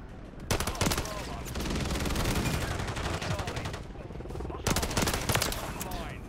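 Pistol gunfire in Modern Warfare 3 rings out in fast bursts of sharp cracks near the start and again past the middle, with a busy stretch of game noise and scattered action sounds between the volleys.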